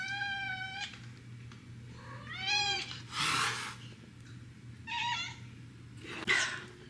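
Several house cats meowing indoors, with about five separate drawn-out meows and cries spaced a second or so apart, close and clear over a low steady hum.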